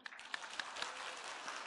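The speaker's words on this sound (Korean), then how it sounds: "박수 한번 할까요?" Congregation clapping during a Christmas celebration church service, a soft, fairly distant patter of many hands with a few louder individual claps standing out.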